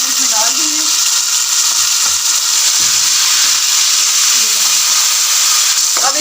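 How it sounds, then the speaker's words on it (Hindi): Tomatoes hiss loudly over a high flame in a pan with garlic paste for rice pulao, making a close, steady, intense sizzle, with brief bits of a voice talking underneath. "टमाटर हमने इसमें डाल दिए।"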